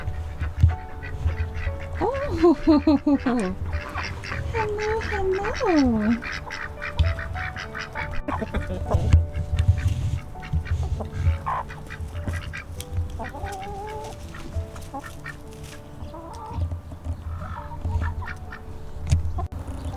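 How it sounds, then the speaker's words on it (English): A flock of five backyard ducks quacks and honks in bursts beside a chicken coop, near and lively, while someone greets them briefly with low talk. "Here are our 5 ducks."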